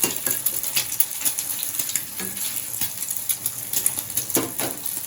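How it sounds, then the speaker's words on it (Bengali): An egg fries in a pan in a home kitchen, giving a steady close sizzle with scattered crackles and light clinks from a utensil. "ডিম ভাজা হচ্ছে"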